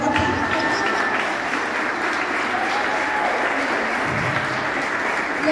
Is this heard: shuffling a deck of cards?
no